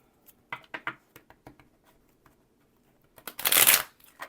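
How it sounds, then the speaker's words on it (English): A deck of tarot cards being shuffled by hand: a few short riffles and soft taps, then a louder, sustained riffling burst near the end, close and clear with no talk. "I'm feeling one more shuffle."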